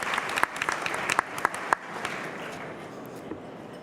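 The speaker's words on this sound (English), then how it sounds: "One more round of applause." Conference audience at a startup pitch event applauding a presenter, lively clapping with a few sharp close claps that thins out and fades over four seconds.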